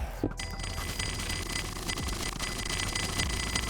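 Soul Eater Terminator bow in Hypixel SkyBlock firing a fast, bright ringing chime repeated continuously like a bell, steady and moderately loud throughout with no talking.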